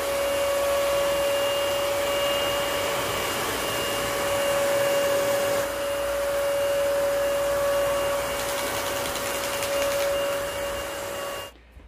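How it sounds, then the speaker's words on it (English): A BOBOT robot vacuum mop running, a steady close motor whine with a strong constant tone and a hiss that stays level for the whole stretch, then cuts off at the end. "They claim that it can vacuum up colorful cereal, also vacuum up whole milk."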